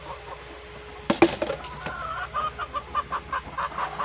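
Several chickens cluck in short, rhythmic bursts close by while being grabbed and moved into a pen on a homestead, with a sharp flurry of handling noise near the start.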